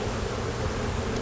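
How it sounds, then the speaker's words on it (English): Honeybees in an opened spring hive during inspection give off a steady, close, dense buzzing drone that holds level throughout with no talking. "There's quite a few bees."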